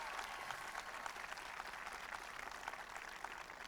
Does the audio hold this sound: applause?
yes